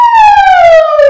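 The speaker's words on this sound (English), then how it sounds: "Sirens roar" A loud, close emergency siren wails alone in a single long descending tone, a sound-effect siren sweep with no other sounds around it.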